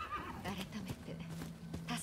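A horse in the video game Rise of the Ronin whinnies and snorts over hoofbeats, fairly faint, with game audio around it.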